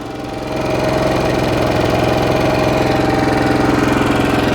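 A Westinghouse 4500 portable generator's engine running steadily, a loud, even mechanical drone with a fast pulsing throb that swells up in the first half-second and holds close and constant, with no talk.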